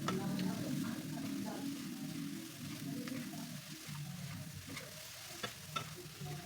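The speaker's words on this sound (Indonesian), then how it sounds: "Lalu masukkan tahunya. Aduk rata." Tofu being stirred in a pan with sweet soy sauce and palm sugar, a steady close sizzle with scraping stir strokes and a few sharp clicks of the utensil against the pan.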